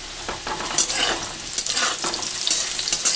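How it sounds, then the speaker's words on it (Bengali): Potatoes frying in oil on a small stove crackle and sizzle loudly and steadily, with bright spattering pops and stirring scrapes throughout. "আর এই যে আলু ভাজা বসিয়ে দিয়েছি"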